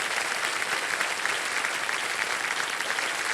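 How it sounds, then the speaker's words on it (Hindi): Studio audience on a television quiz show applauding, a dense, even wash of many hands clapping at full strength throughout, close and continuous with no talk over it. "तालियां बज जाएं"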